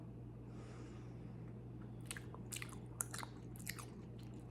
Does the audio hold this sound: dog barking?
no